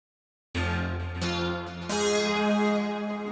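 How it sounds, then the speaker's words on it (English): A sustained synthesizer pad with layered harmonic tones that swells in at once and holds steady, shifting chords partway through, smooth and continuous. "there are also nice ambient type of sounds like this one."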